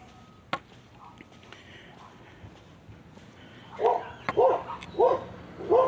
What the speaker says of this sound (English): Doggy.